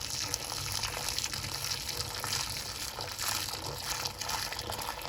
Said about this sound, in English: now we're going to bring our boiling water and just empty it in there